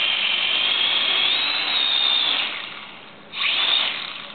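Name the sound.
drone propellers spinning up for manual flight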